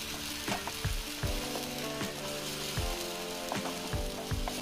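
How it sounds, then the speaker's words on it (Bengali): Ground spice paste fries in hot oil in a home kitchen pan, a steady crackling sizzle broken by several sharp thuds and scrapes of a spoon stirring, with no talking. "মশলাটাকে ভালো করে ভেজে নিতে হবে।"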